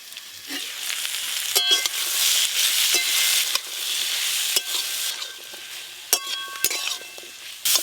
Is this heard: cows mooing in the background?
no